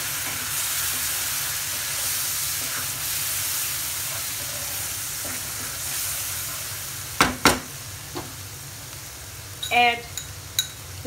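A spice paste with Kashmiri red chili powder frying in a pan, giving a steady, fairly loud sizzle and hiss throughout, with a few sharp clinks of a spoon or spatula near the end.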